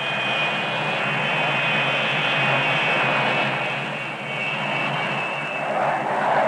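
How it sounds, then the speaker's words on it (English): Loud, steady jet engine roar with a thin high whine running through it as jet bombers launch by catapult from the aircraft carrier USS Enterprise in 1963, sustained throughout with a slight dip near the end. "The bombers can be accelerated into the air from a standing start at the rate of one every 15 seconds"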